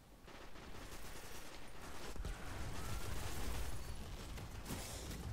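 Sustained automatic fire from the Genesis Chain auto rifle in Destiny's Crucible, a dense continuous rattle of rapid shots with a few sharper cracks, loud and steady throughout with no talking.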